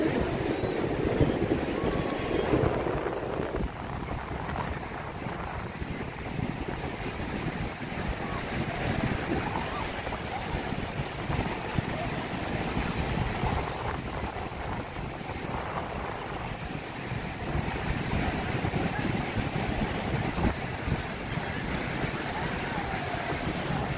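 Steady roar of surf and crashing waves with wind buffeting the microphone at Station 2, Boracay beach, continuous throughout with no talking.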